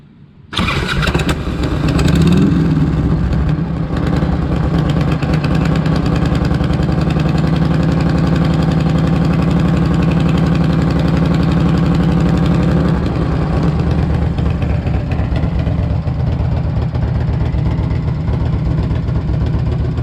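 A 1998 Harley-Davidson Electra Glide motorcycle engine starts up and settles into a loud, steady idle that rumbles on close by without a break.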